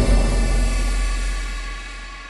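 A horror trailer impact hits hard and wide, a dense booming blast that fills the space and slowly decays over a couple of seconds, heard alone.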